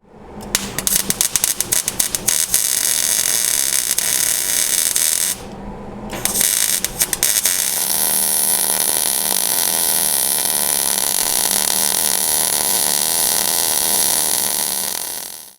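Welding on the bottom of a 1973-87 Chevy/GMC square-body truck bed during a longbed-to-shortbed conversion, heard as loud crackling, buzzing arc bursts, with a short pause before a long steady run, close up and without talk.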